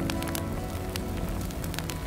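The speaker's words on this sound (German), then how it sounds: "Es regnet so doll." Heavy rain pours down outdoors in northern Sweden, a loud, dense, continuous roar with scattered crackling drops close by.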